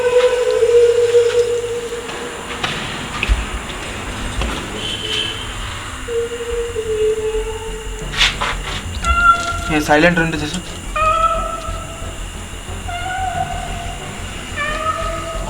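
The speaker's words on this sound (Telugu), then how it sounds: "పిల్లి మియా అంటుందిరా" A cat meows several times in short, tonal calls while people talk and whisper nearby, with a passing train rumbling faintly in the background.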